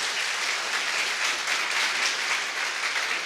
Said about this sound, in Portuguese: Você pode dar um aplauso a ele por isso?